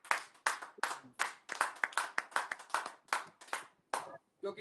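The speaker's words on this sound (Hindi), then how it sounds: "एक बार सुरेश सर के लिए जोरदार तालियां" An office award ceremony audience applauds a staff member, producing a burst of rapid, dense, close clapping with steady rhythm for several seconds before it thins and stops.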